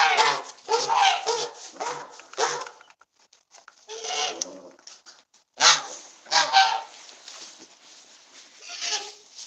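A pet bird in mating season honks loudly in repeated close, harsh bursts separated by short pauses, with someone talking softly nearby.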